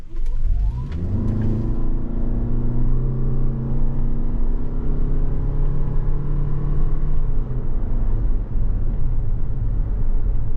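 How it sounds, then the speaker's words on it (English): A 2023 Toyota Venza XLE hybrid accelerates hard from a standstill, its CVT engine note rising steadily in a loud, smooth drone with stepped pitch shifts, then easing off near the end; no talking. "we're going to see how this performs and see how this CVT goes through the gears"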